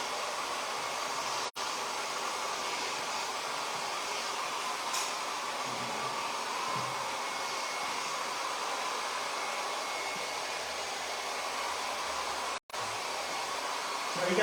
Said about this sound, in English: this blow dryer is quite strong